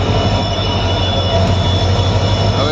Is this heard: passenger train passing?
yes